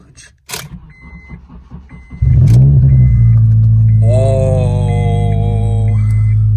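A 2004 Acura RSX with a rusted exhaust cranks over in rhythmic pulses, catches with a loud roar and settles into a rough, loud, steady idle, with a warning chime beeping repeatedly.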